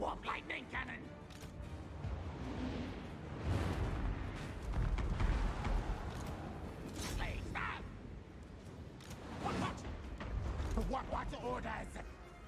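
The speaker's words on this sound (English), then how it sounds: "My artillery is still doing work." Artillery firing in the fantasy strategy game Total War: Warhammer 2, Ikit Claw's Clan Skryre army, booming in repeated heavy blasts over a constant roar of battle noise, with someone talking over it.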